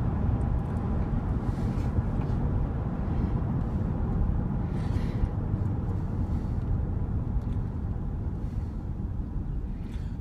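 Steady engine drone from a 1999 5.7 Vortec V8 at idle on a cold day, a constant low rumble with a faint, even ticking-knock woven through it, heard alone without voices.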